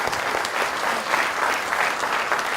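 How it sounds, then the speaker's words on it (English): Steady applause from a seminar audience for a sponsor, a florist, filling the room evenly from start to finish with no talk over it. "let's give a round of applause for Beneva Flowers"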